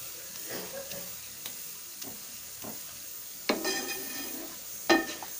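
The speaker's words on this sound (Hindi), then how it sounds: "हम स्पून से इस तरह करेंगे तो हमें ज़्यादा टाइम नहीं लगेगा टमाटरों को अच्छे से भूनने में।" Tomatoes being mashed and fried in a pan with a spoon, a soft sizzle running throughout beneath scattered scraping and stirring strokes, with two sharper clanks of the spoon against the pan near the end.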